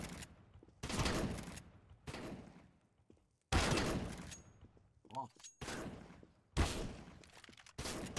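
CS:GO video game gunfire in sharp, loud bursts separated by brief gaps, with a metallic clinking sound midway, and a voice speaking between shots.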